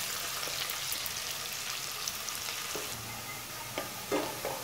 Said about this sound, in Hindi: प्याज पकने लगे हैं और गोल्डन गोल्डन हो गए